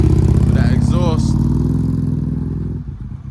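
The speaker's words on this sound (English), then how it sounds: "That is such a good sounding bike." An Aprilia RSV motorcycle fitted with an aftermarket exhaust passes by at an outdoor spring motorcycle event, its loud engine roar fading over a few seconds, with voices talking over it.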